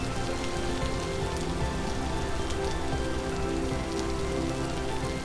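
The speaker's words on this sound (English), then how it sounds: "And now it's raining and foggy," Steady rain pattering on surfaces in the Vintage Story video game, a dense, even hiss of drops continuing unbroken, with no voices.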